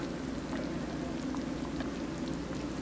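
A steady, dense sizzle with fine crackles and pops, continuous and fairly close, without any voices.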